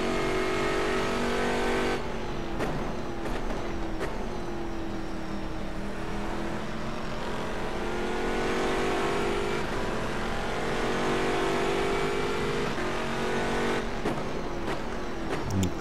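Chevrolet Camaro GT3 race car in the rFactor 2 racing game at Silverstone, its engine droning loud and steady throughout, pitch rising and falling through gear changes with brief lifts for shifts.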